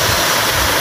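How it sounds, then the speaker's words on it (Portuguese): A waterfall about 10 metres high roars steadily nearby, a dense, even rush of falling water with no talk. "Que cachoeira linda"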